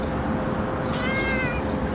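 A cat meows once, a clear, drawn-out call standing out over steady background noise.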